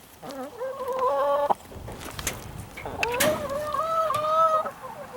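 A chicken clucks inside a coop, two drawn-out tonal clucking calls separated by a brief pause, close and clear, with a few scattered knocks and rustles in between.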